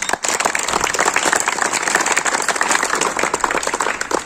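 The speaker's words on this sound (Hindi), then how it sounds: "जोरदार तालियां।" A seminar audience bursts into loud, sustained applause for an invited guest, dense clapping filling the room steadily from start to finish with no speech over it.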